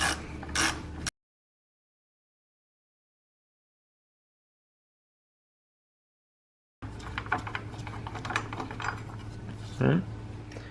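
Ratchet clicking as it loosens a 13 mm bolt on the battery bracket of a 2015-2023 Chevrolet Trax, heard in a short burst, then a long silence, then a longer stretch of close mechanical clicking and rattling.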